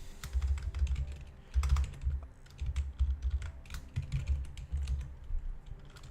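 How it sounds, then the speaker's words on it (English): Steady fast typing on a computer keyboard, close and clear, with dense clicking keystrokes and short pauses between bursts, no voices. "Wow, I'm so bad at typing when I have this microphone in front."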